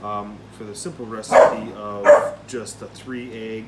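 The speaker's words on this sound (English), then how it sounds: "sorry about the dogs." Dogs bark in a few loud bursts nearby while a person keeps talking over them.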